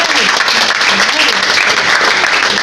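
Dense applause fills a church deliverance service, loud and continuous, with voices mixed into the clapping throughout.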